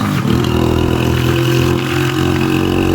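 A low cc motorcycle engine runs close and loud, holding a steady, throbbing idle with a rough mechanical rumble and no talking.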